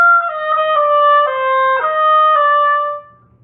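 An oboe plays a short etude passage with a grace note, a bright reedy line of several connected notes stepping through a phrase, close and clear with no talking, fading at the end.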